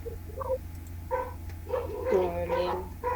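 A dog barks a few short, separated times in the background, its voice faint at first and then louder, with a steady low hum underneath.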